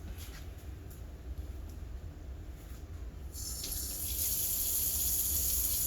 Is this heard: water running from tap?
yes